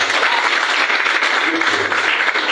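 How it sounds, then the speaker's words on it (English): A seminar audience applauds loudly and continuously, thick clapping filling the whole short stretch at steady strength. "Give him a round of applause."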